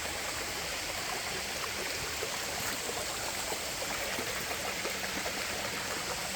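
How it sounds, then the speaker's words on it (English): Stream water near Shoals Waterfall rushes in a loud, steady broadband roar for the whole stretch, with no distinct footsteps standing out. "Let me walk through this water. I'm walking through the water."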